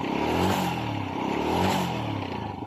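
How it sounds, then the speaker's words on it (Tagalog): A Honda Wave 100 motorcycle engine, once noisy with clattering from a fault, revs up and down in two swelling surges with a steady low idle between, close by and loud, no talking. "balik sa bago na o dati ang tunog ng kanyang makina"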